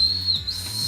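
A Japanese grape-flavoured whistling candy blown by a taster gives a short, shrill whistle lasting about a second, close and clear, alone.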